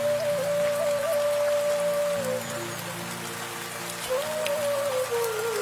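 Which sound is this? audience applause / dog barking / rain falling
rain falling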